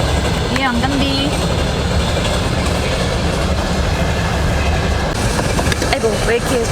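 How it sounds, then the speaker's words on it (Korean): A train pulls into a station in Russia, its rumble and clickety-clack rolling on loud and continuous under a noisy crowd. "기차가 드디어 왔습니다"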